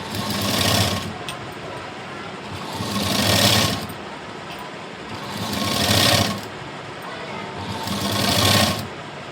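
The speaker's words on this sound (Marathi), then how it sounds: "इथे एक शिलाई देऊन घेऊया।" A sewing machine stitches blouse fabric, the front piece near the cup, in four steady bursts of running separated by short pauses, close and fairly loud with no talking.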